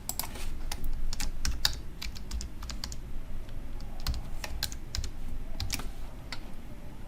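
Steady run of keystrokes on a computer keyboard, crisp close clicks at an even, quick pace while a password is entered, with a constant low hum underneath and no talking.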